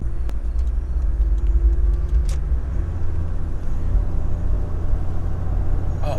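A right-hand-drive diesel Toyota Land Cruiser on 35-inch wheels drives down a road, heard from inside as a steady low engine and road rumble with no speech.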